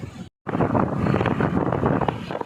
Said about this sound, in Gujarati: મસ્ત ઠંડો ઠંડો પવન આવે છે